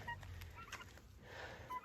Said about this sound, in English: Come here, turkey.